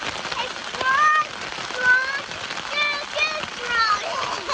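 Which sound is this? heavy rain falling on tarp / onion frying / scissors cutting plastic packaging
heavy rain falling on tarp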